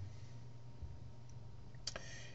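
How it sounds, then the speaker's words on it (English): A single sharp mouse click in Elluminate conferencing software sounds near the end, over a faint low hum and near-silence. "clear all responses by clicking in the column head"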